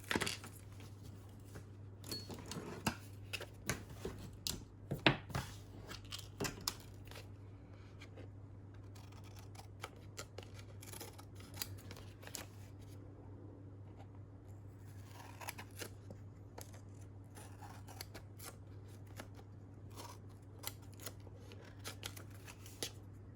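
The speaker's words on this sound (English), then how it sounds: "I'm just going to trim the excess off" Scissors trim excess paper off a craft page in a quiet room, with a run of crisp, close snips and paper rustles spread unevenly over a low steady hum.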